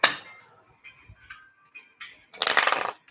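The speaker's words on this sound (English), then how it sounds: "I'm gonna do 2 more shuffles," A deck of tarot cards is shuffled by hand in short, crisp riffles and taps, close and fairly quiet, ending in a longer burst of flapping cards.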